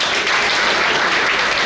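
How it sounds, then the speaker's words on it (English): Students and staff at a school's special assembly for Class 10 applaud, a loud, dense burst of many hands clapping at once with no talk over it. "So I think एक clap तो बनती है"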